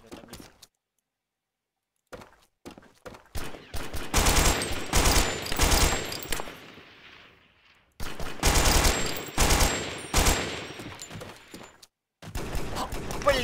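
Rapid bursts of automatic gunfire crackle in dense volleys, with brief pauses between them and scattered single shots, loud and close.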